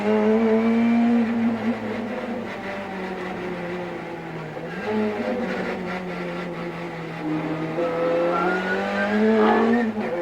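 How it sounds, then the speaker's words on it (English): A BMW M3 race car howls at full speed around the Bathurst 1000 circuit in 1989, its engine note steady and loud throughout, with shifting pitch and other cars' engines layered in. "This is the BMW M3 being shared by Brett Riley and Ludwig Finnar"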